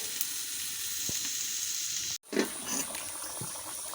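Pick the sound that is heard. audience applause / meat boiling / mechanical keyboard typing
meat boiling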